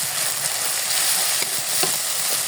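Tomatoes go into a spice paste already frying in oil and get stirred through the pan for a fish curry. A steady, close sizzle runs throughout, with soft scraping stirs over it.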